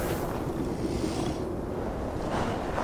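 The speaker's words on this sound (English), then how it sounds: "Windy. Storm coming." Steady wind rushes and swells ahead of a storm in the Viking-era video game Assassin's Creed Valhalla, a broad continuous whoosh with no talk.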